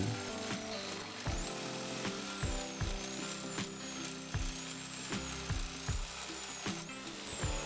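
A power tool cuts old metal railing off its posts on a stone turret staircase, giving a close whirring drone broken by repeated sharp bursts and clanks in a steady rhythm.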